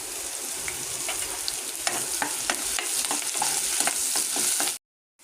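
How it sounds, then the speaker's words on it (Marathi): Onions fry in a pan until reddish, a constant close sizzle with scattered sharp crackles and stirring scrapes, no talking, cutting off abruptly at the end. "कांदा लाल झालेला आहे"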